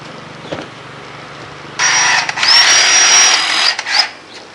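A True Coat Plus handheld paint sprayer coats deck spindles with Benjamin Moore Arbor Coat stain in a hissing, whirring burst of about two seconds. A short break follows, then the spray resumes, with no talking.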